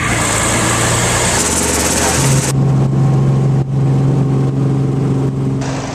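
A helicopter engine drones loudly and continuously in flight, a dense whine with steady low hum and rotor rumble, heard from inside the cabin with a shift in tone partway through.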